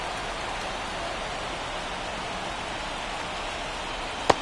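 Steady rain falls on a baseball field in a video game, a continuous even hiss of wide noise with one brief sharp click near the end.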